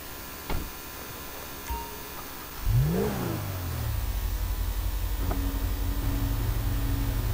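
A supercar in the video game GTA V starts up with a rising rev, then settles into a steady loud engine drone, preceded by a few clicks, with no talk over it.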